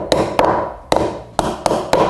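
A hammer taps staples flush into James Hardie plank siding, five or six sharp, close taps at an irregular pace, alone.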